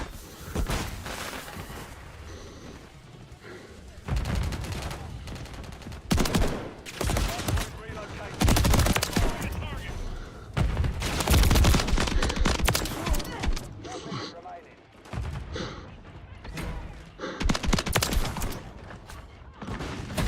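Multiplayer gunfire in Modern Warfare III: repeated bursts of automatic and shotgun fire, loud and close, broken by short pauses, with a voice speaking at times.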